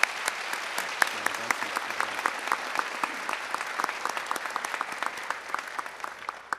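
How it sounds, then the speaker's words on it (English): A crowd at a fire academy graduation claps for the national anthem singer, a moderately loud round of applause with distinct individual claps standing out over a steady wash of hands, fading slightly toward the end. "if you would please give us a round of applause for Captain Candy House."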